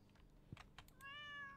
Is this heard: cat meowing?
yes